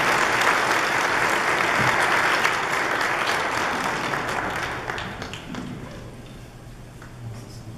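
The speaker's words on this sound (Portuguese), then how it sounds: "Dá uma salva de palmas para essa família." Congregation at a Catholic Sunday Mass claps for a family receiving an image of Our Lady, a full, reverberant burst of applause that gradually thins and fades over several seconds.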